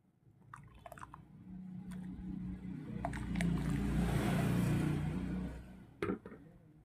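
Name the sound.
washed rice added to boiling milk for payesh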